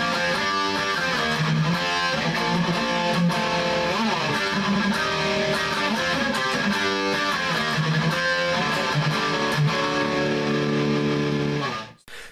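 Heavily distorted electric guitar plays the second guitar part of a song, a dense, chugging metal riff with sustained chords and rhythmic palm-muted bursts, loud and continuous before it cuts off abruptly at the end.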